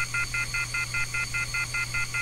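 A phone number is dialed in the video game The Red Room, a quick run of about a dozen evenly spaced keypad tones, clear and close with a steady hum underneath.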